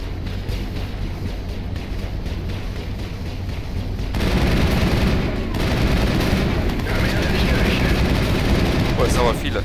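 Gunfire in the Mass Effect video game, a dense, continuous barrage of shots and rumbling combat noise that grows louder partway through, with a voice speaking over it.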